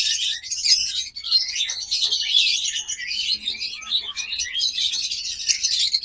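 Ringed pet birds in cages chirp and twitter continuously, a dense, high overlapping chatter from several birds close by, with no voices over it.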